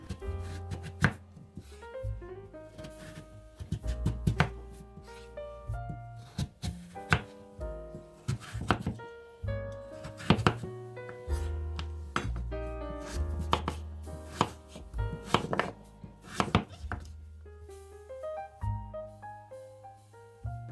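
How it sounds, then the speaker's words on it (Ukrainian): A knife chops pumpkin into medium cubes on a cutting board with firm, irregular thuds, one cut after another. The chopping is close and loud throughout, and no one speaks. "Ріжу гарбуз спочатку на скибочки, а потім на кубики середнього розміру."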